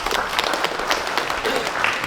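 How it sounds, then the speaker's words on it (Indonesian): A crowd at the Keling Kumang cultural festival in Indonesia breaks into dense, sustained applause, many hands clapping steadily and fairly close, with no talk over it. "Tepuk tangan."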